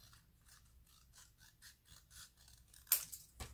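Scissors cut paper in a series of quiet, rhythmic snips, with a couple of sharper rustles of paper near the end.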